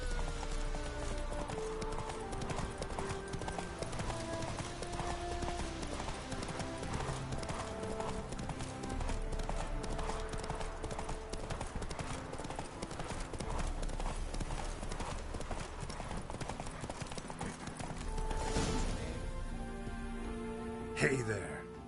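Clip-clop of Roach, the horse in The Witcher 3, galloping steadily and close for most of the stretch, hooves beating in a fast rhythm over a continuous bed of game music and ambience, with voices speaking near the end.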